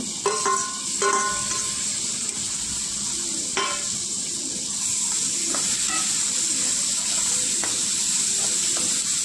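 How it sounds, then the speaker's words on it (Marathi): Green chillies sizzle and crackle in a hot pan with scraping stirs and a few sharp clatters as tomato goes in, a steady frying hiss throughout, for a dhaba-style paneer bhurji. "मिरची परतून झाली की टाकायचा टोमॅटो"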